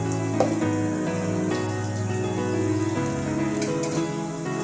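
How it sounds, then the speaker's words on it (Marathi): Spices and green chilli sizzle and fry steadily in a pan for tomato chutney, a continuous close crackle with a few faint utensil clinks and scrapes as they are stirred, no voices. "हे चांगलं परतून घ्यायचं"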